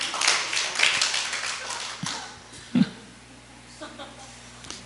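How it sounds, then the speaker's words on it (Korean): Clapping from a congregation at a Tuesday night church service, a brief burst of hands at the start that quickly thins to scattered claps and taps, with some talking in the room. "박수 한번 칩시다."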